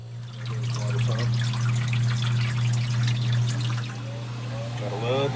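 Ice machine water pump running during pre-chill, water trickling and splashing over a steady low motor hum, close and continuous, with a person briefly talking under it.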